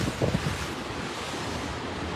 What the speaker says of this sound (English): waves have been, water's been surging in and out for the last hour and a half